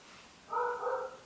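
A small dog at home gives one short bark-like yelp lasting about half a second, fairly faint over a quiet room hum.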